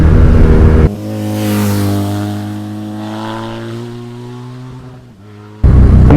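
A BMW R NineT motorcycle cruising down a road, its engine giving a steady droning hum with layered harmonics that swells slightly and then eases off, heard close and alone without talk.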